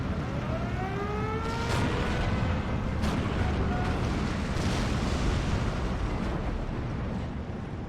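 Tank hit explosion in the WWII strategy game Steel Division 2, during a Slutsk breakthrough battle: a loud, continuous battle din with several sharp blasts and whistling tones layered over rumbling gunfire.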